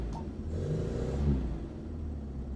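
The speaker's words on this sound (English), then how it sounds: "Give it a rev." A 1950s British Standard Ten classic car engine revs up, a loud rising mid-pitched roar that swells and eases back to a rough idle rumble, heard close with no talk.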